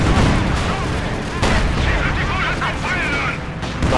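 Artillery and gunfire in Company of Heroes 2, a dense battle din of overlapping booms and shots at high volume throughout, with a voice talking over the fighting.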